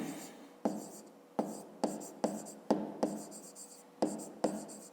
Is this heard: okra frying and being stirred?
no